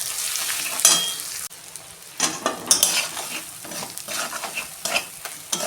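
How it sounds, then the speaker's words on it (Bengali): Spice masala with coriander powder, salt and chilli powder is stir-fried in a pan, a close sizzle with irregular spatula scrapes and clinks and a brief drop in sound partway through. "মশলাটা আমার কষানো হয়ে গেছে,"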